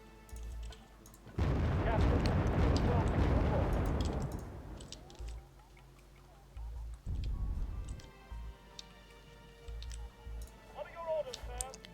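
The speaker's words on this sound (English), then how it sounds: "Taking some more mortar fire." Incoming mortar fire in the war strategy game Wargame Red Dragon lands as a long, loud rumbling blast, followed by softer thuds and scattered ticking battle effects.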